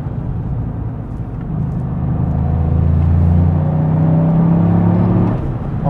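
A Toyota GR Yaris in sport mode hums and rumbles steadily through corners, engine note swelling and rising in pitch as it accelerates, a continuous close interior drone without speech.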